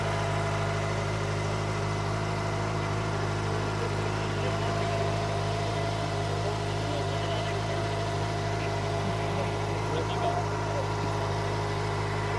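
A KOVE motorcycle engine runs at a steady idle nearby, a constant deep throbbing hum with strong low rumble that holds even throughout, with no clear throttle revs.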